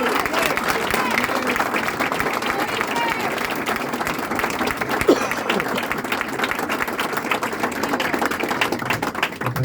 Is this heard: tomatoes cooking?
no